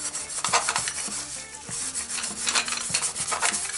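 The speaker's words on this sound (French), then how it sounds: "Paille de fer, paille de fer, ça permet de nettoyer la soudure" Steel wool scrubs a soldered pipe joint on a solar water heater fill system, making rhythmic, raspy back-and-forth rubbing strokes that are close and fairly loud, with no voices.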